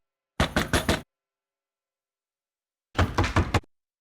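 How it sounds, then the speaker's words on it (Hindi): Two quick bursts of sharp knocks on a door, three or four raps each, separated by a few seconds of silence. "कबीर, कोई खटखटा रहा है।"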